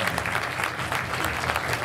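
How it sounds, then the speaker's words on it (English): Audience applause at a live Elvis-style oldies show, a dense, steady round of clapping from a room crowd, fairly close and sustained throughout. "So give this young man a nice round of applause."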